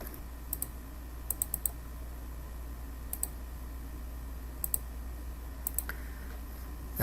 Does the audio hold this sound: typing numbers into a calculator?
yes